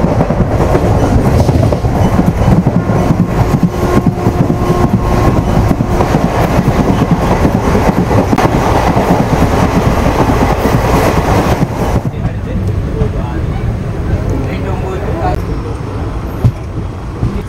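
A passenger train from Kollam to Chennai Egmore rolls steadily along its rails across the 13 Arch Bridge, a loud continuous rumble with rhythmic clatter of wheels over track joints from inside the coach, easing slightly toward the end.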